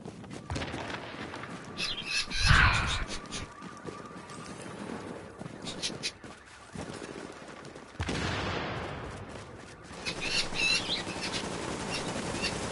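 Wings flap in a burst with scattered squawks from a bird in the video game The Division, over a continuous wash of gunfire-like game noise with no talking.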